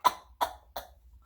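A man mimics a cartoon character hacking on his knees, voicing three sharp, evenly spaced coughs close to the microphone with no other talk around them.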